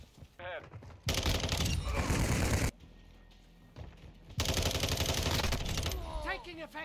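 Gunfire rings out in the video game Modern Warfare 2. Two loud bursts of rapid automatic fire are separated by a quieter stretch, with brief game voice chatter between them.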